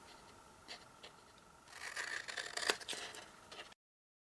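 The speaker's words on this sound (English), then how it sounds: "you just want to snip a little bit here, cutting a V shape" Scissors snipping a small V shape into a paper double-ended treat box, a few soft crisp cuts and scrapes close by, busiest in the middle, with no talking.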